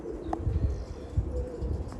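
A pigeon of the Rajan bloodline gives soft, low cooing in brief throaty pulses, close by, over a light background of shuffling.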